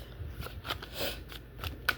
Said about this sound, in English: I've been shuffling the cards for a long time.